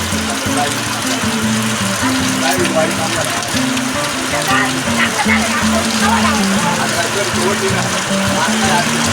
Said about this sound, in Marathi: जोराचा पाऊस चालू आहे बा